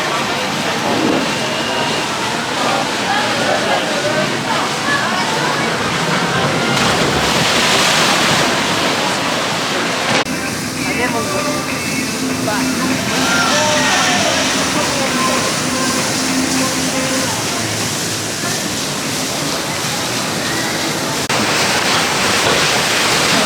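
Rushing, sloshing water from the River Caves boat ride at Blackpool Pleasure Beach on a rainy day, a steady broadband wash that continues throughout with people talking and crowd noise mixed in.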